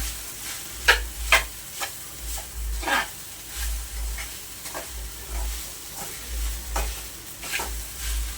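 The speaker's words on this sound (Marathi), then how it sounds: "सगळं छान मिक्स करून घ्यायचं बघू शकता" Sabudana khichdi of soaked sago stirred in a pan, repeated spoon scrapes and clinks against the metal over a soft sizzle, with a low rumbling hum underneath, close up and without talk.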